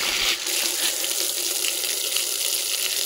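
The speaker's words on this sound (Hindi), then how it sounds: "पानी आ रहा नहीं आ रहा नल में" A village water tap on a forest mountainside in Uttarakhand runs at full flow, a steady loud rush of water splashing continuously and alone throughout.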